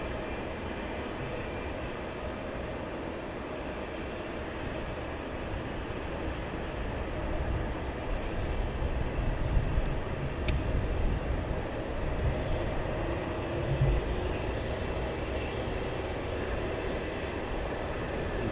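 A FedEx aircraft taxiing at East Midlands Airport at night, heard as a steady distant jet engine rumble and whine that swells slightly midway, with a couple of faint clicks.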